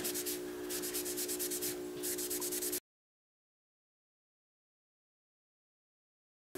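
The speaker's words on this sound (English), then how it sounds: "as I'm buffing this and sanding it a bit, I'm getting a little bit of green on my paper towel" A stabilized pen blank is buffed and sanded with EEE compound on a paper towel, producing quick, rhythmic rubbing strokes close to the mic for under three seconds, then silence.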